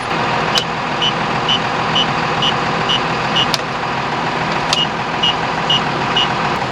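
A John Deere combine's engine runs loud and steady at a rough idle, with a rhythmic high beeping and a few sharp clicks over the constant drone.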